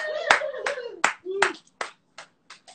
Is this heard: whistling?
no